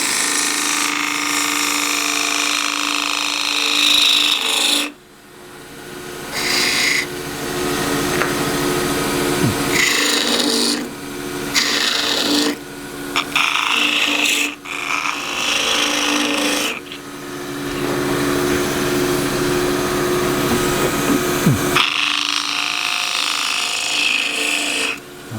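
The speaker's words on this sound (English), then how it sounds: "I'll use the 3/8 spindle gouge with a very long bevel." Wood lathe turning a mallet with a 3/8 spindle gouge, a loud continuous scraping hiss of the cut over a humming motor, broken by brief pauses where the tool lifts off the wood.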